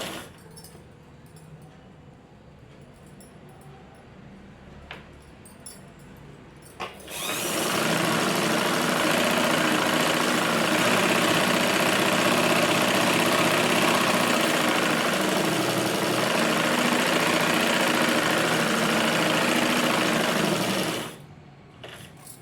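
A sewing machine runs steadily, stitching the bottom border of a lined blouse, its loud continuous whir starting after a few seconds of quiet and cutting off abruptly near the end.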